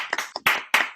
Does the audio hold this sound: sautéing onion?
no